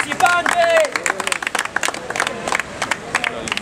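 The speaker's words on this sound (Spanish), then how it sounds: "Un fuerte aplauso para los participantes." Audience at a Guayaquil street rap battle applauds and cheers for the participants, a dense burst of clapping that thins into scattered claps with crowd noise and voices mixed in.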